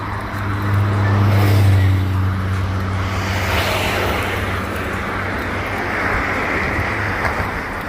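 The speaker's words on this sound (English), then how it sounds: "I'm gonna walk in front of them because cars coming" A car passes on a road near a walking person, its engine rumble rising loudly up close and then easing into a broad, steady hiss of tires as it moves away.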